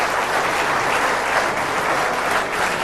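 Sustained applause from Australian supporters at a lawn bowls match after a good shot, a dense, even patter of clapping from a crowd lasting a few seconds.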